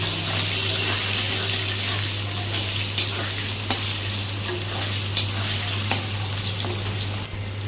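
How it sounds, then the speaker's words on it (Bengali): Potatoes fry in a pan with a loud, even sizzle and a low hum underneath, broken by occasional clicks of stirring. "এখন আলুগুলো দিয়ে লবণ হলুদ দিয়ে আগে আলুগুলো ভেজে নেব ভালো করে"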